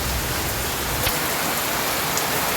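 Heavy downpour pounds steadily on surfaces outdoors, a dense, even roar of rain with occasional louder drops, continuous and close with no voices.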